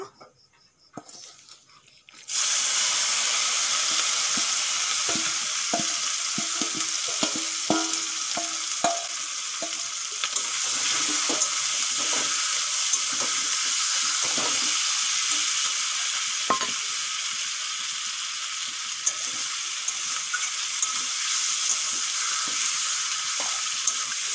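Spice-marinated chicken lands in hot oil flavoured with whole cumin, whole garam masala and a bay leaf, setting off a loud, continuous sizzle with scattered crackles and stirring clatter that runs on steadily.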